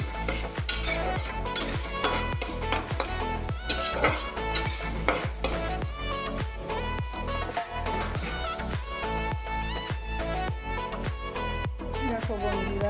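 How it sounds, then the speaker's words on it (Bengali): Food frying in a pan until it browns red, with a steady sizzle under a rhythmic run of clinking utensil strikes against the pan as it is stirred. "ভাজা প্রায় হয়ে এসছে।"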